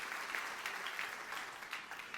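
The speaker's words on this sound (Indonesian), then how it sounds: "tepuk tangan yang meriah untuk kemuliaan Tuhan" A church congregation applauds during a Christmas Day sermon, a soft, even patter of many hands clapping that carries on steadily, faint and distant.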